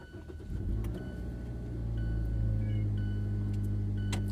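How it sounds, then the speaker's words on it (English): A car engine cranks and starts, then settles into a steady low idle hum that grows slightly louder, heard from inside the vehicle with no talking. "I'm going to start my car and get some air going in here"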